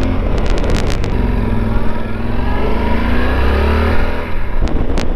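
Honda ST1300 motorcycle ridden through mountain corners in West Virginia, its engine droning steadily and loudly close to the microphone under heavy wind rush, with a few brief clicks.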